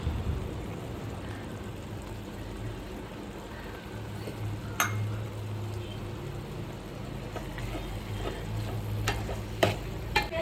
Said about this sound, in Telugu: కారం వేసుకొని మంచిగా కలుపుకోవాలి.